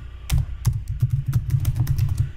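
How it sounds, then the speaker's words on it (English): Typing on a computer keyboard to enter text on a slide, a rapid irregular run of close, crisp key clicks and taps with no talk. "I'm going to type cybersecurity."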